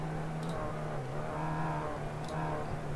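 Race car engines of a BTCC touring car race on the Okayama circuit in the iRacing video game drone loudly and steadily as cars run bumper to bumper, a sustained close engine whine with slight pitch shifts.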